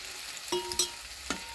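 Vegetables and spices with salt, turmeric and jaggery powder stir-frying for khichuri, a faint steady sizzle broken by a few quick spatula scrapes and clinks against the pan.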